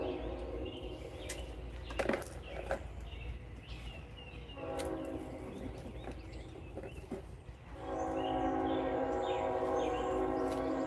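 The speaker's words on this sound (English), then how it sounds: "If y'all hear the train in the background, I am sorry. I do live about 2 blocks from a railroad track" A train runs on a railroad track a couple of blocks away, a distant rumble with faint horn-like tones and chirping birds that grows steadier and louder toward the end.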